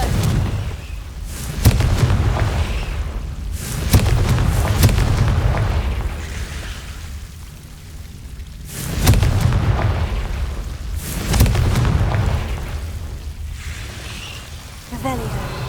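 Repeated blasting-spell explosions burst in Hogwarts Legacy, several deep booms spaced a couple of seconds apart, each swelling into a rumbling roar before easing off, with game ambience between them.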